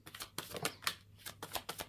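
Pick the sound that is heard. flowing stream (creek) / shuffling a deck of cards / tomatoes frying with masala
shuffling a deck of cards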